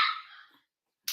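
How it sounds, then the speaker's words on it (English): A puppy barks in one short, close burst that trails off, then falls silent before a second bark starts sharply. "You can probably hear the barking going on from where you are"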